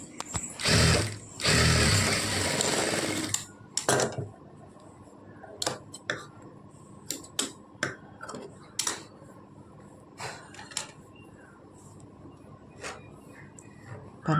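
A sewing machine stitches a folded edge on a blouse neckline to give a piping-like finish, starting with a loud sustained run of stitching, then breaking into short separate bursts and clicks.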